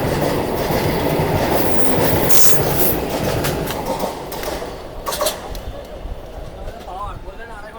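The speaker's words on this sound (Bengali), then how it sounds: "দেখো পুরো ফুল স্পিডে বেরিয়ে যাচ্ছে Vande Bharat express Jajpur Keonjhar road railway station থেকে।" A Vande Bharat Express pulls out of Jajpur Keonjhar Road railway station at full speed, its rumble and rolling wheel noise loud and close before easing off, with a faint squeal near the end.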